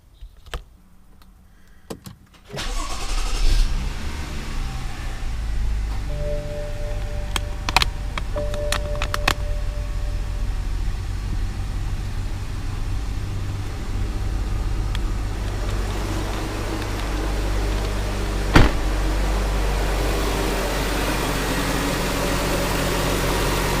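A BMW 535 F10 engine runs steadily after an oil change, a low continuous drone with faint mechanical clicks early on, starting up after a quiet opening moment and idling evenly close by.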